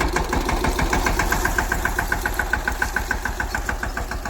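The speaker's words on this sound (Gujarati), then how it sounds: "ટ્રેક્ટર ચાલુ કરે છે, આગળ લઈ જાય છે" A tractor engine runs steadily nearby with a regular chugging, knocking pulse and constant vibration, no voices over it.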